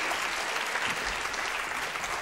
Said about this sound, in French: nous allons rejoindre immédiatement sous les applaudissements, évidemment, de la foule en délire